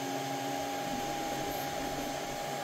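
A 3D printer resumes printing after a filament change, giving off a steady, faint mechanical hum with a sustained tone and no distinct movements, heard close by and alone.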